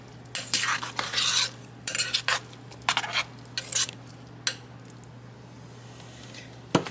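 Black bean beef chili stirred in a crockpot: a series of roughly eight short, scraping swishes in uneven bursts, close and fairly loud, then trailing off into quiet with a faint steady hum underneath.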